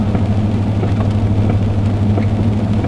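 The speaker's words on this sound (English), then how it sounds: "I'm out in the pouring rain photographing these vehicles." Pouring rain outdoors on the way to Writing on Stone Park, where vehicles are being photographed; a steady, dense hiss of rainfall over a low constant rumble, loud and unbroken with no talk.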